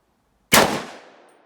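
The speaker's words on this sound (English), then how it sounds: "So I'm going to shoot one." A single close, loud gunshot from an AMT Automag III pistol chambered in .30 Carbine, a sharp blast followed by a decaying ringing tail in otherwise silent surroundings.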